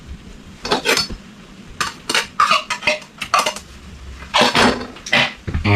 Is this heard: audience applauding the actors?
no